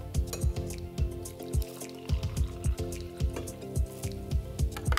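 Water pours and sloshes while plant-based protein powder is mixed in, giving repeated rhythmic splashing and dripping bursts at close range with no talking.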